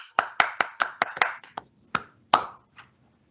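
Hands clapping during a virtual city council meeting after a unanimous vote: about ten sharp, close claps in a quick uneven run, then a few scattered single claps trailing off into silence.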